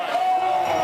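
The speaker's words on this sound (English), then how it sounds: "Listen to the crowd." A large crowd cheers and roars at the Königssee bobsleigh track during a World Cup 4-man heat, a steady loud wash of noise that continues without a break.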